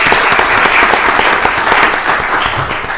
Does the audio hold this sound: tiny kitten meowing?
no